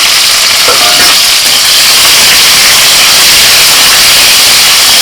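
Chopped tomatoes and green chillies dropped into hot oil tempered with bay leaf and five-spice seeds, a loud, steady hiss of sizzling throughout with a brief stir near the start.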